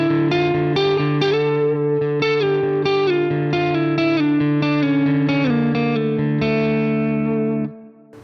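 An electric guitar runs through the clean green channel of a Trivium rhythm amp plugin, playing a loud, steady sequence of ringing chords and single notes with light effects, then stopping abruptly at the end.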